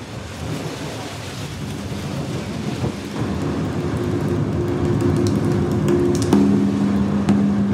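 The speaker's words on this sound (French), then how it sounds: "La pluie, Jijel connaît bien" Heavy rain pours in Jijel, Algeria, a steady, dense roar of falling water with low rolling thunder rumbling underneath, growing slightly stronger over the passage.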